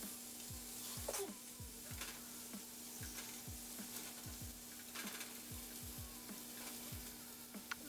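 Ramen dumplings flipped in a pan sizzle softly in the background, while chopsticks tap and scrape against the pan in a string of short, light knocks, with a faint steady hum underneath.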